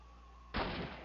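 A single sharp gunshot in Call of Duty 1 sounds halfway through, loud and close, followed by a brief ringing tail after a quiet stretch.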